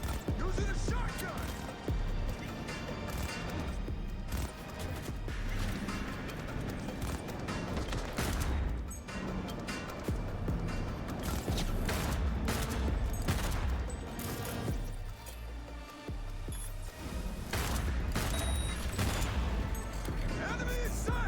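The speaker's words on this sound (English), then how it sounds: "Using a shotgun!" Heavy, sustained gunfire in Cyberpunk 2077: Phantom Liberty, with dense bursts of shotgun blasts and other shots from a firefight packed closely over the whole stretch, with shouting voices mixed in.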